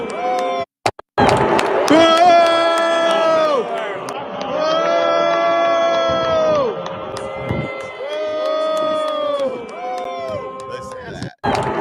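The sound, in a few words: crowd booing at Red Sox baseball game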